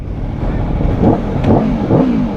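A 2025 Aprilia Tuono motorcycle engine revs close by, three rising throttle blips, each swelling and falling back over a steady loud running drone.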